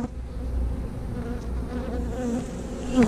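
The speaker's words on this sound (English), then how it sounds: "So many bees in this box." Honey bees swarm inside a beehive box that is open for inspection, a dense, continuous buzzing hum heard up close with no pause.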